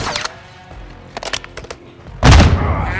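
Gunfire in Call of Duty Modern Warfare II: a few sharp, close cracks early on, then one loud, booming sniper-style shot at close range that rings out and decays over the last second.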